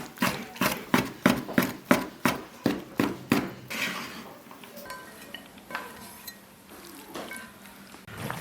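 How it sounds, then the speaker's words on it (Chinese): Knife chopping cooked lamb tripe and lung into strips on a board, a quick run of about a dozen sharp, evenly spaced chops close by, then sparser, softer cuts and handling clatter. "全部切成条儿"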